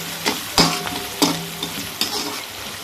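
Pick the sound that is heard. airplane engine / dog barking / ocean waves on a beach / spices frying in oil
spices frying in oil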